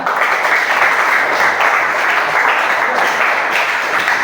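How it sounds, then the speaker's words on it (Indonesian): A classroom of students claps together in a dense, steady burst of applause lasting several seconds, loud and close. "Tepuk tangan untuk dua teman kita"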